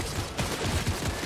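Rapid gunfire crackles in a Fortnite match, a dense burst of repeated shots packed into about a second, loud and close.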